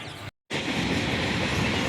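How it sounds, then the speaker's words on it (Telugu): A large goods train runs along the Vijayawada line near Guntur, producing a loud, steady roar of wagons with rolling wheel noise that continues close by after a brief cut. "చూడండి మీరు, పెద్ద గూడ్స్ ట్రైను"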